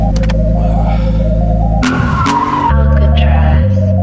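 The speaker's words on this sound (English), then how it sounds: "I'm gonna put the top down and go find a spot to make a little tire squeal." Tires on a Nissan 240 squeal loudly as it slides, over a roaring engine, with a sharp skid burst midway and the motor droning on close by.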